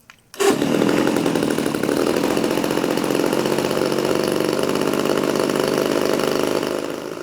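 A 35-40cc gas engine on a Legend Hobby 87-inch Cherokee RC model plane starts up and runs loud and close, holding a steady, buzzing chainsaw-like drone for about seven seconds.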